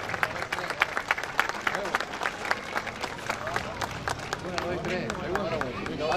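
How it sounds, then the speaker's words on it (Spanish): An audience claps in distinct, fairly sparse bursts during a lighting setup at a press event, with voices talking over and through the applause as it continues. "Aplausos entonces para este momento."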